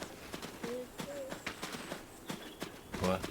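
Horse hooves clip-clop at a steady walking rhythm in a video game, fairly close and clear, with a few short tonal game sounds mixed in and no talking.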